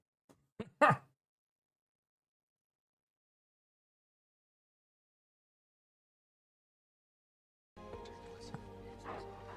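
A puppy named Charlie gives a few quick, close yips and barks in a short burst. Long silence follows, then unrelated background sound comes in near the end.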